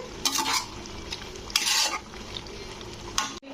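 Boiled peas and potatoes cooked with mutton fat for ghugni, stirred in a pan under a steady sizzle, with a few bursts of louder scraping and a spoon knock at the end, no speech.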